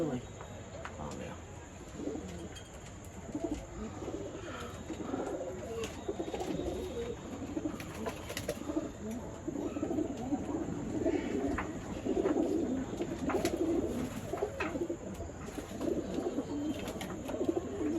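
Red tambda pigeons coo in a loft with a low, rolling, repeated cooing that goes on steadily throughout. Chirps and a voice talking can be heard over the birds.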